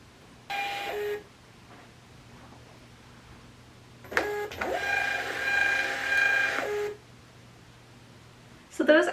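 A MUNBYN thermal label printer runs in short whirring bursts, one brief feed, then a longer printing stretch, and another starting at the end, close up.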